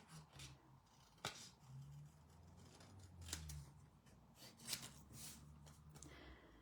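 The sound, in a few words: scissors trimming around a stamped paper card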